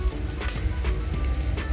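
Tomatoes go into a pan of cooking onions for biryani, setting off a continuous close sizzle with faint crackles, fairly quiet and with no talk.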